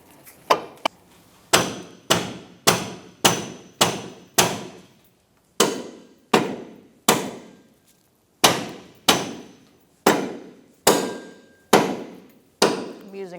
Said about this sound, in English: I'm using a rubber mallet, and I'm hitting the arm, not the ball joint.